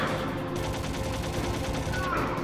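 Rapid gunfire from the video game Metal Gear Solid, a dense burst of repeated shots running steadily through the whole stretch, loud and close.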